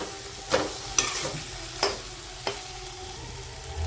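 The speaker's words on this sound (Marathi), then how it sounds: "आता आपण दोडके टाकून मसाल्यामध्ये चांगले परतून घेतले." Ridge gourd pieces being stirred and tossed in a masala in hot oil for a Maharashtrian dodka fry bhaji, with a soft steady sizzle broken by four or five sharp scraping clatters of the spoon against the pan.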